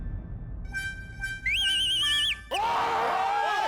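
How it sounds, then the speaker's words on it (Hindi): A whistle is blown in a comedy TV scene: a few short shrill toots, then a long, loud, steady blast, followed by a raised voice. "तो तुसी बार-बार सीटी क्यों बजा रहे हो?"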